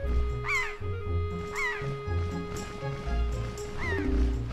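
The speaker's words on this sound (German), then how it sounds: "Ein Vogel?" A bird caws in The Legend of Zelda: The Wind Waker video game: about four harsh, rising calls spaced roughly a second apart, each standing out over the game's steady background music.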